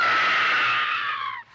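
Fay Wray's scream from the 1933 King Kong soundtrack sounds as a single long, loud, sustained shriek that holds steady, then falls away and cuts off abruptly near the end.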